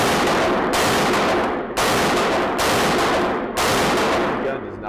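A Tommy Built Tactical TG36K HK G36 clone rifle fires four loud, close gunshots at a range, each followed by a long ringing decay, spaced roughly a second apart.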